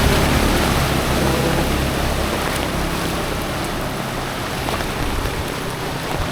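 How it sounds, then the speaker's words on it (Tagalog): Steady, heavy rain roars continuously on a flooding Marang Road, a dense broadband wash that holds at an even loudness throughout. "Yung tuloy-tuloy ang pag-ulan, malakas."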